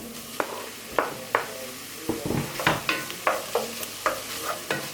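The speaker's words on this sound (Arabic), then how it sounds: "غادي نزيد الدجاج ديالي" Steady sizzling of chicken and vegetables frying in a pan, with repeated scraping and stirring clicks from a utensil every half second or so.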